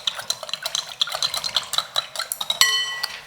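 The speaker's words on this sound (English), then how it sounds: "Just going to stir that up. Get all those little lumpy bits out." A utensil clinks and scrapes repeatedly against a bowl while stirring a lemongrass chicken marinade, a quick steady rhythm of close ringing taps ending in a sharper knock.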